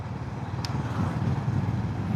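A Honda CB350RS motorcycle engine pulls hard under acceleration, a loud, steady low rumble running throughout with a brief sharp click near the start.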